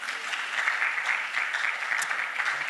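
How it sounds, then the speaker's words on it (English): Steady audience applause from a church gathering fills the whole stretch, a dense even patter of many hands at moderate loudness with no break. "Give yourself a round of applause."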